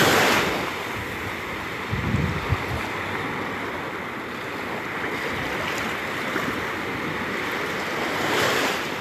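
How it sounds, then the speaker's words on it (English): Ocean waves break on a beach in a continuous roar of surf, with a louder crash near the start and another swell toward the end, mixed with wind buffeting the microphone. "there was one that came in right here where the waves are breaking"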